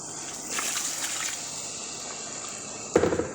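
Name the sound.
water being poured into a cooking pot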